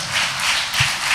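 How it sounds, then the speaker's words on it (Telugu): A congregation at a Telugu Christian church service claps hands together in a loud, steady rhythm of repeated bursts. "కొడితే బెగ్గరగా చప్పట్లు కొడి దేవుని నామాన్ని కనపరచు"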